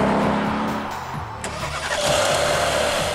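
A Mercedes-Benz SL's 4.6-liter bi-turbo V8 cranks and fires up close by, settling into a deep, steady idle with a brief rise in revs, no talk.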